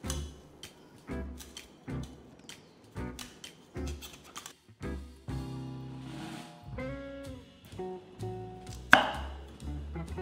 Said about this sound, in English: Cut up the broccoli into bite-sized florets.